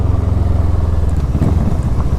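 Kawasaki ER6N motorcycle engine droning steadily while riding, a loud close low rumble with slight throttle fluctuations and no speech.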